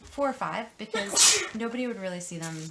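A single sneeze bursts out briefly amid ongoing close speech from a person explaining how to draw an octopus's legs; the sneeze is short and bright, with talking before and after.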